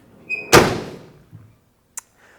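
A 1959 Chevrolet pickup truck's passenger door swings shut with a heavy, solid thunk, followed by a faint thump and a short metallic click.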